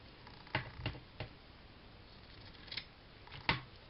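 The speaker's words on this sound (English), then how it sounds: "I'll cut a little bit of this off." Scissors snip through leftover fat-quarter fabric in a few close, crisp cuts, spaced irregularly against a quiet room.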